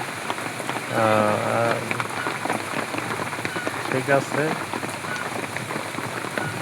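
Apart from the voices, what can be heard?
rain falling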